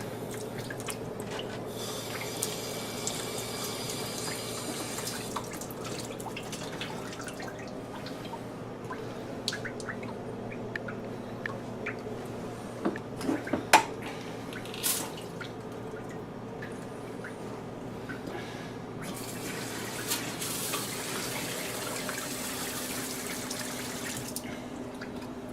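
A kitchen faucet runs again after its water supply is reconnected: soft, steady trickling with scattered drips and small splashes, faint and close, growing a little busier midway.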